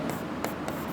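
Chalk or marker strokes on a classroom board during a physics lecture on diodes, a steady scratchy scrawl with a couple of quick accented taps, close and alone for about a second.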